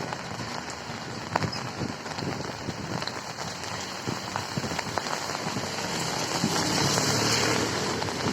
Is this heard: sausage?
no